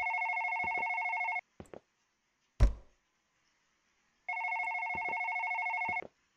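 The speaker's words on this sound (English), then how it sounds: "I guess this phone's just gonna have to ring for all eternity" Electronic telephone ring in steady trilling bursts inside a late-night horror game, cut off by a few clicks and a hard knock, then resuming for another long burst.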